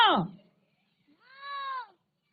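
A domestic cat gives two short meows, the first falling quickly and the second a longer, steadier cry after a brief silence, close and clear.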